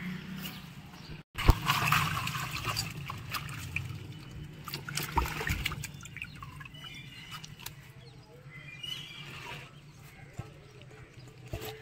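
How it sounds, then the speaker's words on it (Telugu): Water trickles and splashes as freshly harvested tubers from a terrace vegetable garden are washed by hand, with knocks and handling noises at a moderate, close level under steady talk. "ఒకసారి వాష్ చేద్దాం దుంపల్ని."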